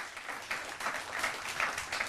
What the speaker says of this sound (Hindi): जोरदार तालियों के साथ स्वागत करिए योग गुरु